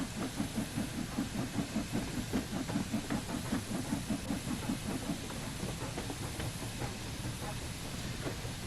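Steam locomotive in the Train Sim World 5 game, with a steady rhythmic chuff and hiss over a low rumbling engine drone, moderately loud and continuous with no talk.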